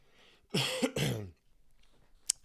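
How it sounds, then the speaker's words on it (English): A single harsh cough bursts out close by, a short rough hack with a brief catch in the middle, followed by quiet and a faint click. "Sorry about the cough."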